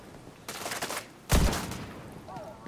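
In The Division, a sniper rifle fires twice: a first sharp crack, then a louder, booming shot, each trailing off into a short echo.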